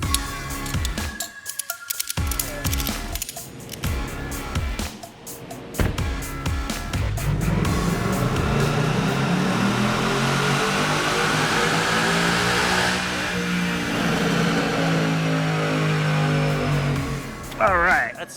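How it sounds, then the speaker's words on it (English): A 2019 Ford Mustang GT with a 10-speed automatic runs on a dyno, its engine revving loudly and climbing steadily in pitch for a long sustained pull before cutting off near the end. "I've never dynoed a 10-speed auto car yet in person, so what do you say we hop in this thing, wheel it over to the dyno jet"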